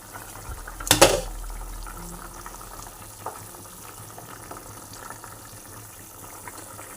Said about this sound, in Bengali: জল ঢেলে দিয়েছি, এবার ভালো করে ফুটিয়ে নেব।